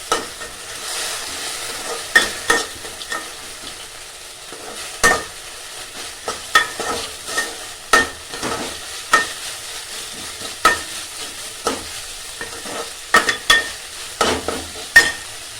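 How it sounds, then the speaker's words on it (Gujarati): A spoon scrapes and clacks repeatedly in a pan as chutney is stirred into dry bread bhaji over high flame, sharp irregular knocks over a soft sizzle. "હાઈ ફ્લેમ ઉપર આપણે થોડીક વાર હલાવતા રહીશું"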